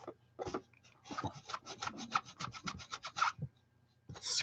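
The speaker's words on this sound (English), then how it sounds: "Scrubbing on the chamois." A rubber stamp is scrubbed on a chamois cleaning pad, giving quick rhythmic scratchy rubbing strokes in fast bursts, fairly close but quiet, with no voice.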